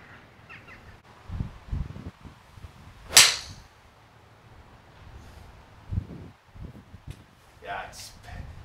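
A Titleist 718 AP3 iron strikes a golf ball with one sharp, loud crack, alone and close, among quiet outdoor rustling and brief bursts of movement noise.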